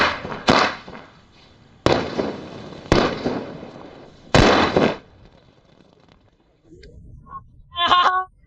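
Four Diwali firecrackers fired at once: several loud bangs in quick succession, each sharp blast trailing off into crackle, followed by a voice calling out.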